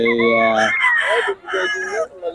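A Boston gamefowl rooster for sale at a market gives one loud, close crow, followed by someone talking over faint background bustle.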